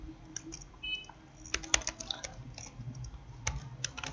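Computer keyboard clattering as text is typed into InPage software, with a steady run of close, crisp key clicks in uneven bursts, a few heavier keystrokes, and no speech.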